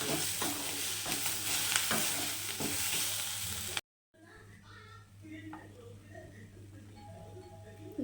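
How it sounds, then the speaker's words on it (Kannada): Masala for chicken sambar fries and sizzles steadily in a pan while being stirred with scraping strokes, then the sound cuts briefly and resumes as quieter sizzling with light clatter. "ಚೆನ್ನಾಗಿ ಫ್ರೈ ಮಾಡ್ಕೋಬೇಕಿದ್ದೀನಿ"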